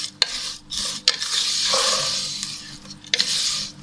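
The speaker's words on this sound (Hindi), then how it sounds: "और सेवइयाँ फ्राई हो चुकी हैं।" Vermicelli for sheer khurma fries in a pan, giving a close, steady sizzling hiss broken by sharp scrapes and clinks as it is stirred.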